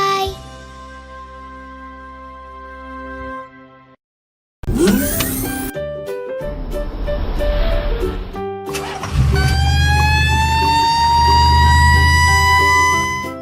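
Animated red fire truck with a wailing siren, sounding in loud rising and falling tones broken by a short silence and other brief vehicle effects, then a strong siren wail to the end.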